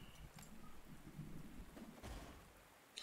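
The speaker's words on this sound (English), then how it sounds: "Stupid rain." Steady rain ambience from the Panzer Corps 2 strategy game, a soft continuous hiss with low rumbling, quiet and even throughout with no voices.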